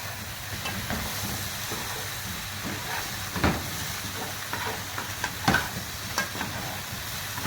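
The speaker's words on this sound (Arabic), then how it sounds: "نقلب البطاطس مع الصلصه" Potatoes stirred with tomato sauce in a hot pan for an Egyptian potato tray: a steady sizzle and hiss with intermittent scraping stir strokes and a few soft clunks, close and alone without voices.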